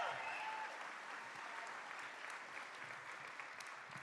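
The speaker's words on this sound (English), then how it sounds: "give them a round of applause." A crowd at a campaign kickoff rally claps in steady applause, a dense wash of hand claps from many people, sustained throughout at moderate loudness.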